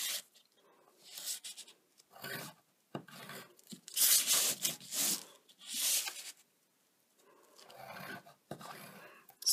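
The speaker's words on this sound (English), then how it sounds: "just going to score a line from this corner here up to that notch and back down." A blade scores lines into material for a chocolate-box style clutch bag, heard as short scraping, rasping strokes that come in separate bursts with quiet pauses between, close and fairly soft.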